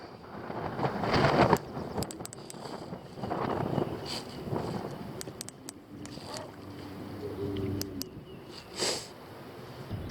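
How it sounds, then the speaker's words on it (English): Gusty wind buffets the microphone in uneven rushes while fishing for crappie on the water, rising and falling over several seconds with water sloshing faintly in the background. "pretty daggone windy and gusting."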